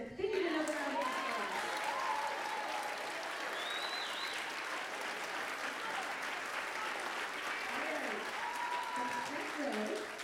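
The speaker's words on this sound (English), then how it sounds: "They need another round of applause." A school audience at a grade 6 winter concert gives sustained, even applause that fills the hall, with scattered voices and a few whoops over the clapping.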